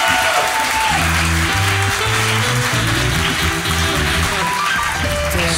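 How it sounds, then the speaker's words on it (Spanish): A studio audience applauding at the opening of a Spanish-language talk show, loud sustained clapping and cheering that runs the whole way through over a bed of intro music. "¡Fuerte aplauso, por favor!"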